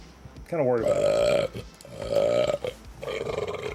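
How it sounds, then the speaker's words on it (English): A series of loud, drawn-out belches, three in a row, each a deep croaking burp with brief pauses between. "we can just belch our way through the whole fucking night"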